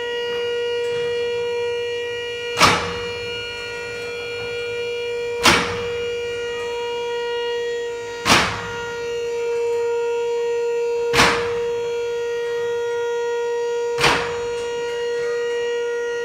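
Safety locks on a Stinger trailer lift post from Axe clunk into place five times at steady intervals of about three seconds, each a sharp metallic click over a constant motor hum.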